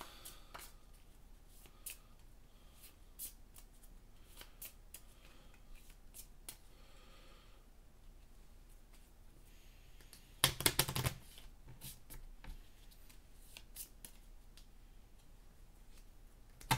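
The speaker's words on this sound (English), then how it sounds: "I basically have to shuffle my deck because I don't have any cards to draw" A deck of game cards is shuffled during a solo Marvel tabletop match, a quiet scene of faint ticks and riffles with one sharp, louder burst of shuffling partway through.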